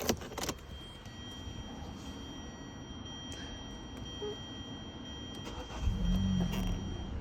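A 2012 Hyundai Sonata with 113,000 km starts up: a few sharp clicks and clunks at first, a fairly quiet interior hum, then the engine note swells near the end.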